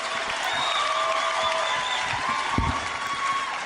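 Comedy club audience at a Ron White stand-up show, with sustained loud applause and crowd noise spreading evenly throughout and no speech on top.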